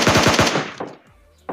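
Automatic gunfire from the mobile battle-royale game PUBG Mobile Lite: a loud, rapid burst of about five shots in quick rhythm, followed by a trailing echo and a short sharp sound at the end.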